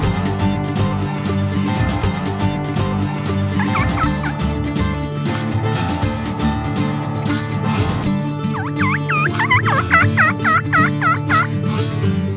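Wild turkeys, toms among hens, gobble in repeated bursts, several loud rattling calls standing out over a busy outdoor background, the last run of gobbles close and clear.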